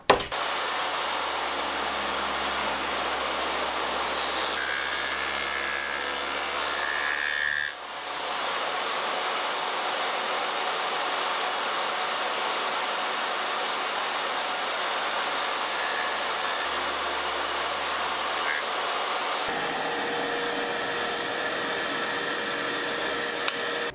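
A power saw cuts a dado joint into a cabinet board, a steady loud whine running throughout with a short dip partway through and a shift in tone near the end, no voices.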